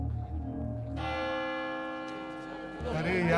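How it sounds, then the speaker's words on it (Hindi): A bell rings with a sustained, resonant tone that lingers and fades, while faint voices murmur underneath. "घंटी बज गई।"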